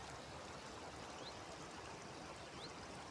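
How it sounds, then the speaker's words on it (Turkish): A stream polluted with black olive-mill wastewater, Karınca Creek in Burhaniye, Turkey, flows steadily, a soft even gurgle with no voices, fairly quiet and uninterrupted throughout. "Kapkara zeytin suyu akıyor."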